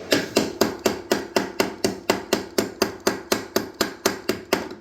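Steady metallic hammering on a Cub Cadet lawnmower deck after welding, about three blows per second, each strike sharp and ringing, close by and with no voices.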